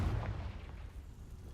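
A Confringo spell explodes in Hogwarts Legacy as a deep, rumbling boom that starts strong and trails off into a low, muffled roar over a second and a half.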